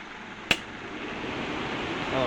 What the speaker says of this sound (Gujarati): કુલરને એવું ચાલુ કરી દઈએ